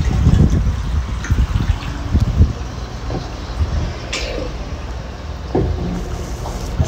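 Water from a rain barrel running through a pump tube fitted with an Earthminded connector, a low gurgling flow with bumps and knocks and occasional sharper splashes, close to the microphone.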